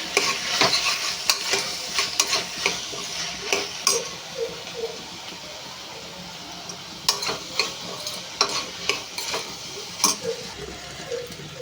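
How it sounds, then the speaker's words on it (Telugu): Onions frying in a pan as chicken is about to go in, a steady soft sizzle with repeated scraping stirs and utensil taps in an uneven rhythm, close and moderate in level, no talking. "ఈ ఉల్లిపాయలు కూడా వేగిపోతున్నాయి"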